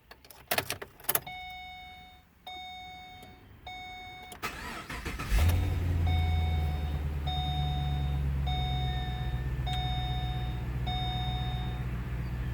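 Keys rattle and clunk, then a periodic warning chime beeps before a 2009 Pontiac G8 GT engine cranks and catches. It settles into a steady, low idle while the chime keeps pinging over it.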